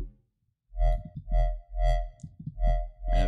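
An FM wobble bass from the Vital synth, built on a triangle wave with an LFO sweeping the filter, throbs in loud, distorted, rhythmic pulses after a brief silence.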